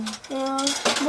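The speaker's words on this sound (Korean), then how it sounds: "예찬이 설거지 왜 하는 거예요?" A seven-year-old child washes dishes in a home kitchen, with metal cutlery and dishes clinking and ringing near and fairly loud in short bursts.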